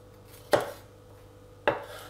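A knife cuts a red bell pepper in half on a board, making two sharp, close chopping strikes about a second apart against quiet kitchen background.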